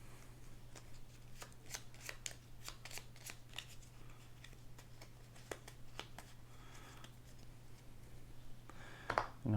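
A deck of Gloomhaven board-game cards is shuffled by hand at a table: quiet, close riffling and flicking bursts repeat in quick runs over a low steady hum, with no talk.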